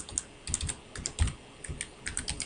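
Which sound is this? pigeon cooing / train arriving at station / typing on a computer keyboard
typing on a computer keyboard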